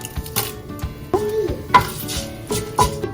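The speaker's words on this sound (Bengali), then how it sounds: "তেলটা গরম হয়ে গেছে, এখন আমি এর মধ্যে ফার্স্টে দিয়ে দেবো হচ্ছে সর্ষেটা আর শুকনো লঙ্কা।" Mustard seeds and dried red chillies drop into hot oil in a home kitchen, giving a crackling sizzle broken by several sharp clinks of a utensil against the pan.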